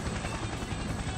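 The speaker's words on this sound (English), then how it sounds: "The helicopter is suddenly attacked from an unexpected direction and the vehicle sways alarmingly." A helicopter in Persona 4 Arena Ultimax, a continuous loud rotor roar and rumble with fast, even pulsing, close and filling the whole moment without speech.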